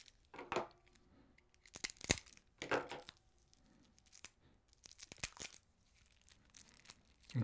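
Plastic wrap being peeled and torn off board game player aid cards. Quiet, intermittent bursts of crinkling and ripping come close up, with short pauses between them.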